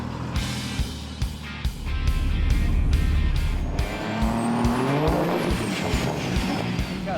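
Ram 3500 Cummins turbo diesel dually launching down a drag strip, loud engine roar building under heavy throttle with a rising turbo whistle and brief tire chirps, then revs climbing through a shift as it pulls away.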